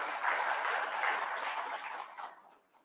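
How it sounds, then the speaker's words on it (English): Sustained audience applause at a Southeast Arizona law enforcement training academy graduation ceremony, a dense wash of many hands clapping that holds steady for about two seconds and then quickly fades out. "Give him a round of applause."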